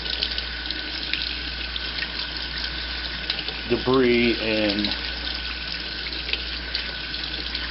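A kitchen faucet runs in a steady hiss while food is washed under it for chili, and a person talks briefly over the water.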